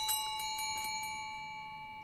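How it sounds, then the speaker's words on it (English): A small bell struck once in the Phasmophobia video game, a bright metallic ring with sustained tones that slowly fade over a couple of seconds, heard alone. "Can you hear that when I hit the bell?"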